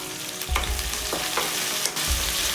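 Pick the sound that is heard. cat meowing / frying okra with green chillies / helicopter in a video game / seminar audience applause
frying okra with green chillies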